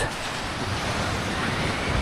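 Sea surf washes in at a beachfront, a broad steady hiss and rumble of breaking waves blended with wind buffeting the microphone, fairly loud and unbroken.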